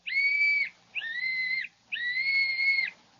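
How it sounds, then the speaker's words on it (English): Three shrill whistle blasts, each held for about half a second to a second, close and fairly loud with short gaps between. "Blow the whistle quick, Jimmy."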